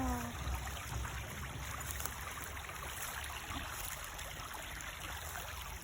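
Gentle stream water flowing and trickling nearby during a walk, a soft continuous babble with faint steady tones above it and no talking.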